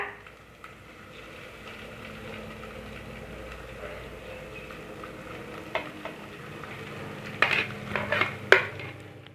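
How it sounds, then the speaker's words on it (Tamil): Cooked vermicelli and green peas being stirred in a pan for semiya upma, with a steady soft sizzle and scraping, then a few sharper clinks of the utensil against the pan near the end. "சேமியாவை சேர்த்தாச்சு இப்போ நம்ம இதை நல்லா கலரி விட்டுப்போம்"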